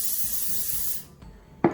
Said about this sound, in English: spray them with some olive oil. Non-stick spray of any kind that you wish.